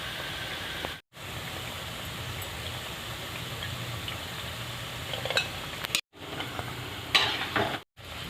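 Palm fritters (taler bora) frying in hot oil make a constant bubbling sizzle like light rain, broken by brief drops to silence and a few sharper clinks or splatters near the end.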